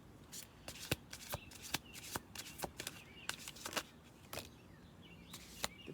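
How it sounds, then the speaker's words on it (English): A deck of cards is shuffled up close, giving quick crisp riffling flutters and sharp snaps in irregular bursts, quiet and with no one talking. "Okay, I'm going to do one more shuffle."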